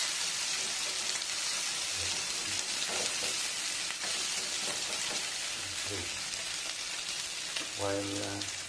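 Potato slices frying in a pan for a Filipino potato omelette, giving a steady, close, rain-like sizzle throughout, with a few brief faint voice sounds and a soft clink near the end.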